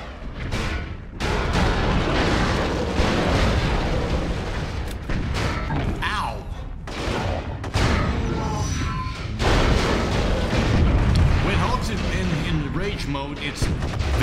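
Tanks fire in the Hulk (2003) video game, dense booming blasts and rumbling explosions rolling almost continuously at loud volume, with someone talking excitedly over the barrage.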